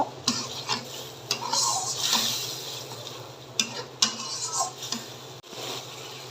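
A spoon stirs and scrapes egg curry gravy in a frying pan, with soft sizzling underneath and several sharp clinks against the pan, heard close and with no talking.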